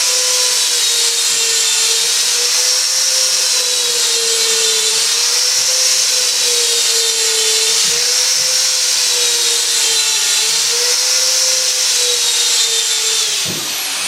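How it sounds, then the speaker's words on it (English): A power drill bores holes into a two-foot log for mushroom inoculation, giving a loud, steady, high whine that wavers slightly in pitch for fourteen seconds and then cuts off briefly near the end. "So we're going to start with the drill, again with the bit that's not American made."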